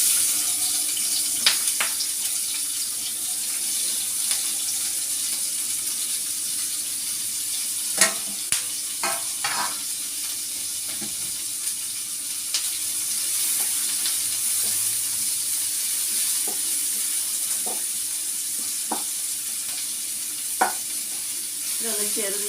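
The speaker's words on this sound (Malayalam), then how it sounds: "രണ്ട് സവാള വഴറ്റാനിടുന്നുണ്ട്." Two onions sautéing in hot oil in a pan, a steady close sizzle with occasional stirring clatter and brief tap-water bursts.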